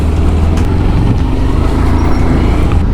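A Bajaj Pulsar 125 Split Seat motorcycle on a test ride after a fuel fill, its engine running steadily and loud throughout with a low droning tone and road noise, no voices.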